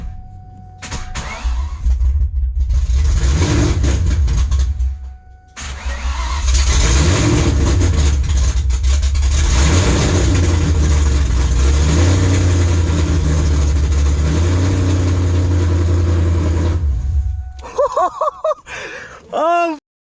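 Whipple-supercharged, cammed engine in a Terminator Cobra fires up for the first time, cranking then catching into a loud, rough idle with blips, a brief cutout around five seconds, then running steadily before shutting off.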